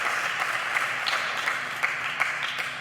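A crowd at a World Pool Masters match applauds steadily, with soft, fairly distant clapping that holds at an even level with a few sharper claps standing out.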